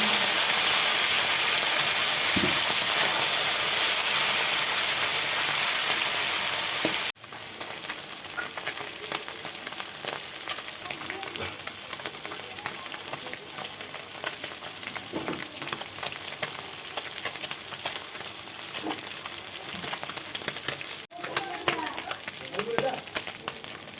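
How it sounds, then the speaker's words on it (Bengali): Pieces of fish sizzle in hot oil in a pan while Bengali food is cooked at home, a steady hiss with stirring scrapes. The sizzle runs throughout and is louder at first, then softer after a cut. "মাছগুলো ভাজা হয়ে গেছে"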